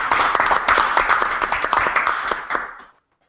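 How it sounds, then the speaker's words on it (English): Small audience at a tech meetup talk giving a round of applause, brisk close clapping for about three seconds before cutting off abruptly. "Hopefully you kind of went deaf for a minute with our thunderous applause"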